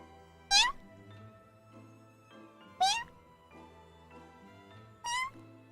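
A person imitates a cat meowing, voicing three separate rising mews spaced about two seconds apart, each short and clear against a quiet background.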